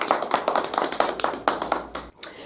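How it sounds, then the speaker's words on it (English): An audience at a support group meeting claps, a steady patter of hand claps for a couple of seconds, fairly close and dying away at the end. "Everybody, give Darren a round of applause"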